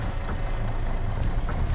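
A car engine rumbles at a steady low drone in the video game My Summer Car, heard from some distance as a continuous hum with no voices.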